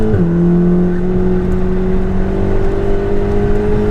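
A VW Golf R accelerates hard along a winding, rally-like road, its engine droning loud and steady with a sustained whir throughout, with no voices.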